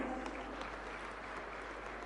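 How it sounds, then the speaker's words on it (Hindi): Applause from the crowd at a women's empowerment event attended by the Madhya Pradesh chief minister, heard as a faint, even wash of distant clapping with no breaks. "अपने सम्मान में जोरदार तालियां बजाएं।"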